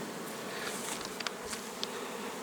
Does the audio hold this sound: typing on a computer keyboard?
no